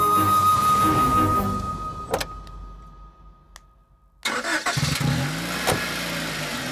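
A car engine turns over and catches, then idles and revs up as the vehicle pulls away, after a brief near-silent pause, with clicks and tire noise close by and no talking.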